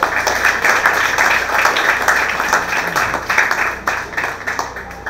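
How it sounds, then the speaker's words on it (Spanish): Sustained audience applause at a regional final awards ceremony in Guna Yala, a dense steady wash of clapping for five seconds with no clear speech. "Fuerte el aplauso"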